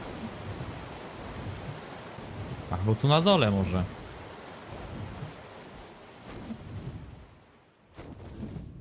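Steady roaring rush of a waterfall in ARK: Survival Evolved on the Ragnarok map, a continuous broadband wash running throughout with someone talking briefly over it midway.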